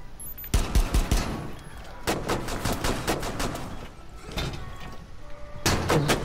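Rapid gunfire bursts from the tactical shooter video game Rainbow Six Siege, loud and close, with several volleys separated by brief pauses and players talking over the action.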